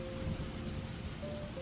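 Steady rain falls in Paris, a dense, even hiss of drops on surfaces with no gaps and no voices.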